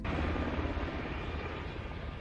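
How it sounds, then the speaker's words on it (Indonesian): A helicopter passing overhead, its steady broadband rotor and engine roar holding loud and close throughout, with no voices. "tiba-tiba saja sebuah helikopter melintas di atas kepalanya"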